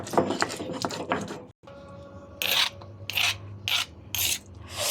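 Coriander leaves and garlic are ground into a paste in a kitchen with rhythmic, rasping scrapes, several close, loud strokes in a row after a short busier stretch.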